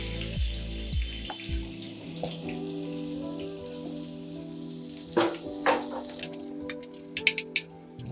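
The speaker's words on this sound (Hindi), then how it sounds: "अब इसमें जाएगा हमारा कटा हुआ प्याज।" Chopped onion dropped into hot coconut oil in a heated iron kadai, starting with a few soft thuds and then settling into a steady, crackling sizzle with occasional sharper pops.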